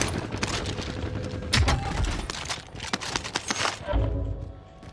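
Gunfire in Call of Duty Warzone, irregular volleys of shots and sharp cracks, some close and punchy, others more distant, over continuous game ambience.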